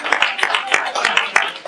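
An audience clapping for a presenter during a talk on action research at a tribal college, a steady patter of many hands close by for under two seconds.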